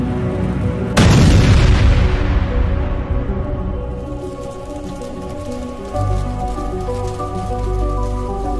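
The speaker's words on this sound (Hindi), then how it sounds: "बुल्ली की कार जाकर उस गाड़ी में टकरा जाती है, जिससे एक जोर का धमाका होता है" A cartoon car slams into another vehicle, setting off a loud booming explosion that bursts suddenly and rumbles away over several seconds amid background music.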